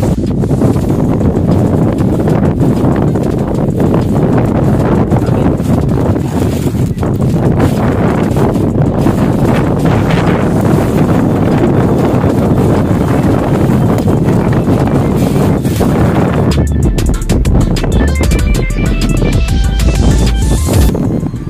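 Strong wind roars steadily against the microphone while fishing outdoors, a constant loud rushing that buffets throughout, with some faint clattering toward the end.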